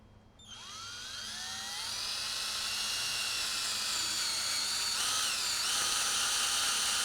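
A power drill bores into a livestock feed block to collect a sample, spinning up to a steady high whine that holds close and loud, with a brief dip in pitch as the bit bites deeper.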